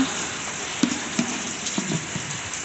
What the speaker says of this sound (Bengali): শুকনো লঙ্কা ফোড়ন দিয়েছে, গন্ধ বেরিয়েছে। মা ভাজছে তো